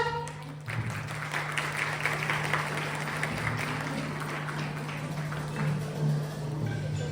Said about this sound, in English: Make a big round of applause for her